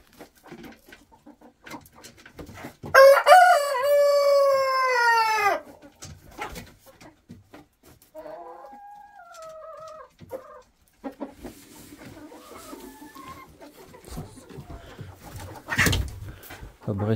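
A rooster crows loudly up close, followed by softer scattered clucks and bird calls, then quieter rustling and a sharp thump near the end.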